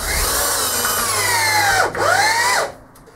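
A homemade D-bit reamer is sharpened with a power tool that gives a loud, high motor whine. The pitch sags twice under load, then winds down and stops.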